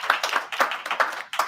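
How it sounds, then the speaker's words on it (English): Audience applause at a startup conference panel, a short burst of claps from a crowd, fairly close and steady with no talk over it. "And applaud yourself for being here this morning or this afternoon."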